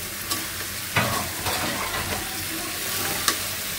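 Hilsa fish with spices stirred in a hot frying pan, with steady oil sizzle under a few distinct scrapes and knocks of the spoon against the pan, close and fairly loud, no voices.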